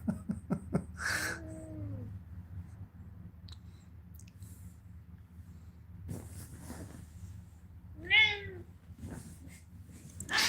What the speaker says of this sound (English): Ah, kitty, come here.